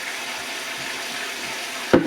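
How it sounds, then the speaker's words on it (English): Cold tap water running into a pitcher for Kool-Aid, a soft steady hiss of flow that ends in a short louder clunk. "Fill it up, water, cold water."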